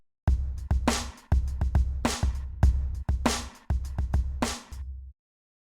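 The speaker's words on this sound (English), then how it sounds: "So I actually sliced a beat" A sliced break-beat drum loop plays back close and punchy, with choppy kick, snare and cymbal hits in a stuttering rhythm for about five seconds before stopping abruptly.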